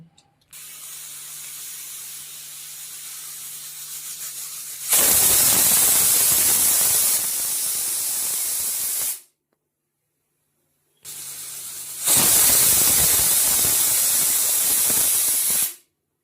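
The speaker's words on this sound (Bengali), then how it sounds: "দুটো সিটি দিয়ে নিলাম এবার গ্যাস থেকে প্রেসার কুকারটা নামিয়ে রাখছি" A pressure cooker of urad dal (maskalai lentils) cooking on a gas stove lets out two loud, sustained steam whistles, each lasting several seconds, with a short silent gap between them and a low steady hiss underneath.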